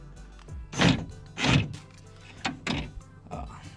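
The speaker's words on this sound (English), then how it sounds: "Also, you can do the door lock itself." Rear door lock actuator on a 2009–2014 Ford F-150 cycling several times, sharp mechanical thunks and buzzing clicks in a close, uneven rhythm with short pauses between.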